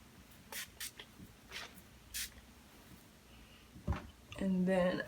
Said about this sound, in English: So just spray a little bit all over.